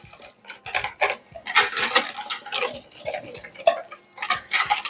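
A spoon stirs a flammekueche topping mixture seasoned with Espelette pepper in a bowl, giving irregular scraping and soft clinking strokes, close and moderately loud, with no talking.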